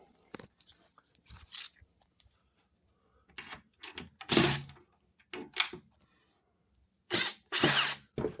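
A power drill drives screws into wood while building a boat strongback, heard as short separate bursts of whirring and grinding, some loud and close, with quiet gaps between them.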